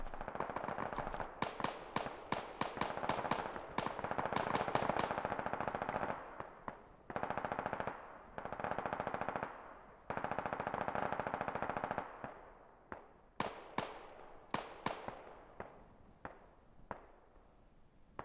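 Automatic gunfire in the military shooter Squad comes in long, loud, close bursts of rapid shots. Scattered single cracks and short volleys follow as the firing tapers off.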